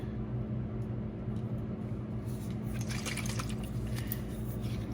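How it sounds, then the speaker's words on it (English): A homemade drink is poured over something, a steady wet, splashing liquid stream that runs continuously and close, with a few brighter trickling bursts toward the end and no talking. "I just pour my little drink over that"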